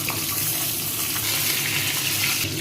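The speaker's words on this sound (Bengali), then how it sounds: "এবার বেগুনটাকে হালকা হলুদ নুন দিয়ে ভেজে নেব" Brinjal pieces seasoned with turmeric and salt fry in hot oil, giving a steady, close, loud sizzle that holds evenly throughout with no talking.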